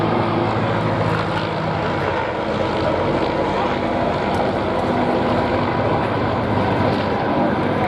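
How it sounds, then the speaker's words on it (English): A Messerschmitt Bf 109 fighter flies at the Duxford Flying Legends air show, a loud, steady propeller-engine roar that fills the whole clip without a break. "109 was used during the whole war as the #1 fighter of the Luftwaffe."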